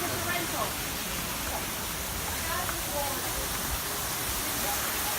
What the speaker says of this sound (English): There's the waterfalls again.